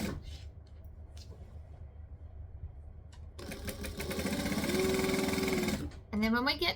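A sewing machine stitches fabric for wrap pants with a shirred waist, a close, fast, steady mechanical buzz that starts after a quieter lead-in. A voice speaks briefly near the end.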